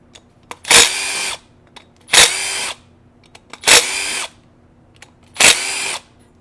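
A power tool zips bolts out of the engine pan on a STIHL BR 700 backpack blower, four short whirring bursts spaced evenly, each close and loud with quiet clicks between.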